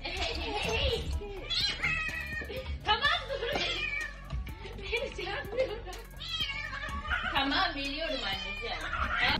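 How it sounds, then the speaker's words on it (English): A hungry cat meows repeatedly and loudly, the cries rising and falling in quick succession, mixed with voices and other busy sound close by. "This cat is truly hungry."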